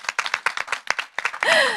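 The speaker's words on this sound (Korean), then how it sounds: "우리 관장님 더 힘나시라고 여러분 큰 박수 한번 부탁드리겠습니다" Scattered, uneven claps ring out from a small audience at a talk concert marking Korean Provisional Government Founding Day, sparse sharp hand strikes followed at the end by a bright whistling tone.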